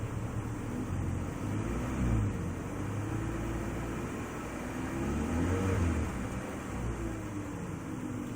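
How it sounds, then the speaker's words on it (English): A BMW E46 engine revved in neutral, a steady mid-pitched drone that swells and eases in gentle waves, heard close and alone. "Give it some gas in neutral."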